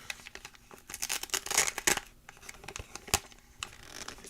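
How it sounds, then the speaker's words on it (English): Crinkly foil trading card packs, sports and Pokémon, rustle and tear close up, with sharp crackles and scattered clicks continuing unevenly throughout; no one speaks. "Are these pack noises too loud?"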